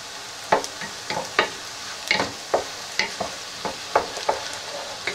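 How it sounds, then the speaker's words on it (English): Butter and garlic sizzle in a pan as a spoon stirs them, soft clinks and scrapes recurring every half second or so over a steady low frying hiss, close and fairly quiet. "I'm going to stir it because I don't want that garlic to burn. I just want my butter to melt."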